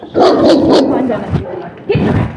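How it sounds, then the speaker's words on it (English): A big dog barks in short bursts close by, with loud overlapping voices and commotion from people outside during a police response. "It's a big dog."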